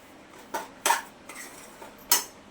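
Spoon scraping and clinking against a pan while mango sheera is mixed after cardamom powder goes in, several sharp metallic knocks spaced irregularly over a faint background.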